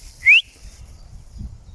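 A single short, sharp rising whistle sounds once to call a dog on a countryside hill walk, followed by quiet outdoor ambience.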